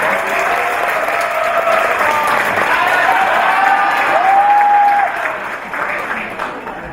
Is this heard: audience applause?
yes